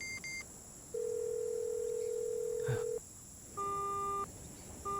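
Telephone tones on a call that has just been cut in a Hindi-dubbed South Indian action thriller: a long steady electronic tone, then a repeating on-off beep pattern, thin and quiet over a soft hiss.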